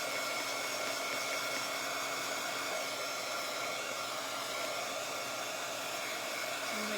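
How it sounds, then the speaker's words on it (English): A hair dryer runs steadily, drying glue on a decal surface, a constant even whooshing roar that stays unchanged the whole time with no talking. "I'm going to dry this just a little bit more. Make sure it's completely dry."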